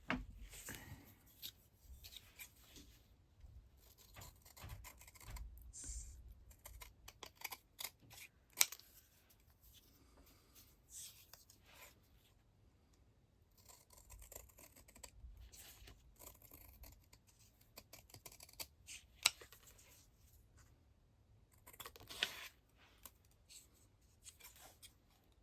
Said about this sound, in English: I'm just going to do it with scissors.